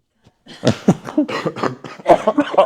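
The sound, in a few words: cough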